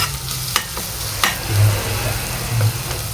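Salted fish fries in a pan, giving a steady close sizzle and crackle with small pops and a faint scrape or two, and no voices over it.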